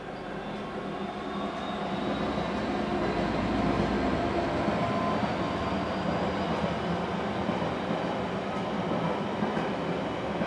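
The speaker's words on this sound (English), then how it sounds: "Fucking trains." A train rumbles past nearby, a steady, continuous roar of rolling wheels and rail noise that swells slightly midway and holds for about ten seconds with no talking.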